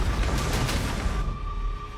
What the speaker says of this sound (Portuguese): Esta poderosa explosão ejetou pedaços da superfície da Terra na atmosfera.